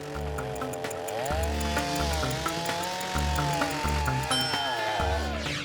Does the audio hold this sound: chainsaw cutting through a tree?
yes